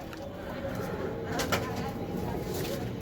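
Giribaz flying pigeons at a sale coo in a low, steady murmur over a constant background hum, with a louder rustle near the middle.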